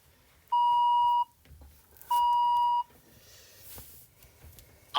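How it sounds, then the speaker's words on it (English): Two identical steady-pitched electronic bleeps, each lasting about three-quarters of a second with a short gap between, signal the end of a French exam extract's second playing over quiet room noise. "After the second playing of the extract, you will hear two bleeps."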